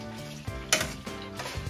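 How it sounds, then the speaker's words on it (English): Pasta is added with tongs to a pan of sizzling garlic and oil, giving a close, quiet sizzle with a few scraping and clattering touches of the tongs against the pan over a couple of seconds. "I have some tongs and just add a little bit of pasta at a time"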